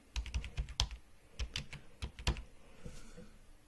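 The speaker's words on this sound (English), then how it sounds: "Now I'm going to type in his name." Fingers tap on a computer keyboard, a quick, uneven run of close, crisp keystrokes with short pauses between clusters, quiet and alone.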